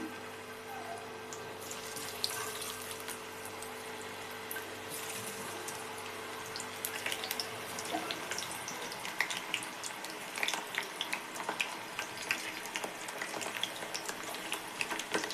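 Mushroom and cauliflower pieces for gobi manchurian fry in hot oil, a steady bubbling hiss that grows busier and crackles more as more pieces go in, close up with no talking.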